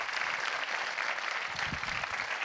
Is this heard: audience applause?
yes